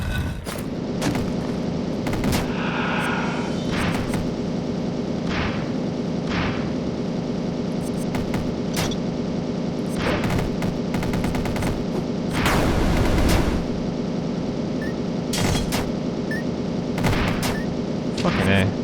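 Rapid bursts of gunfire from the video game Dungreed crackle in dense, repeated volleys over game music, loud and nearly continuous, with a voice talking at times.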